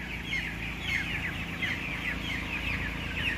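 Broiler chickens in a tunnel-ventilated house cluck in a busy, overlapping chorus, steady and moderately close, with low background hum and no talking.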